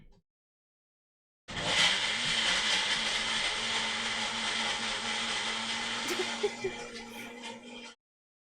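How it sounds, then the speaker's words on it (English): A kitchen blender starts abruptly and runs at a steady, loud whirring roar for about six seconds before cutting off, heard alone. "I can hear the blender."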